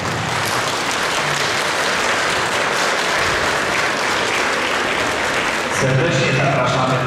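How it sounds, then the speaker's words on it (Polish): Audience applause at a school celebration for grandparents, a steady dense wash of clapping throughout, with a voice and some chatter rising near the end. "Brawa dla nich."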